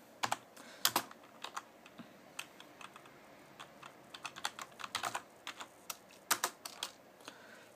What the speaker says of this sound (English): Press shift, press insert. Then type.